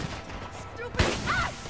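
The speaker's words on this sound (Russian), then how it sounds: "О, хороший выстрел." Gunshot in GTA 5 during a zombie apocalypse mod, a single sharp blast near the middle, loud and close, followed by a short rumbling tail over quiet game ambience.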